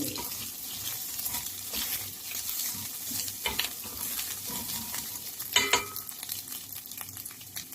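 Chicken being stirred in a pan while cooking chicken tinola: soft steady sizzle with scraping and clinking of a utensil, irregular stirring strokes, close but fairly quiet.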